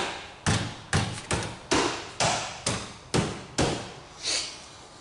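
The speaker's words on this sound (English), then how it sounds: "Go ahead and snap your trim back in place." A car door trim panel on a 2004–2010 Volkswagen Jetta is pushed back into place. About eight sharp, solid thumps land roughly every half second, close and alone, each with a short decay.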